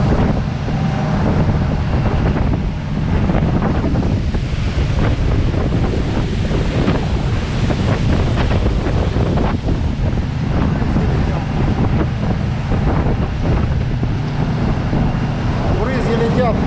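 A Khlong Saen Saep canal boat speeds through Bangkok, filling the scene with loud, continuous roaring wind buffeting the microphone, rushing water and spray, and a low engine drone beneath.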